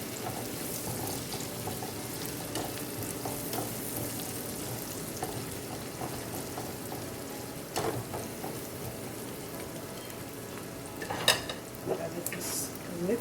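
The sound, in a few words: stirring green onion and thyme in a pan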